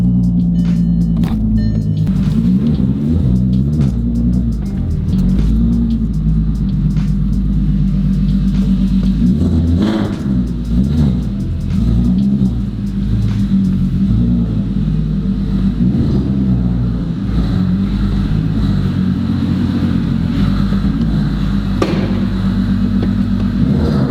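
Volkswagen Golf R32 engine running continuously with a deep, loud rumble and uneven idle pulses, close by, with no talking.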